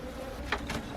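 Stingless bees buzz from an opened hive in Nicaragua, a close, low insect drone with a couple of brief louder swells as individual bees pass near.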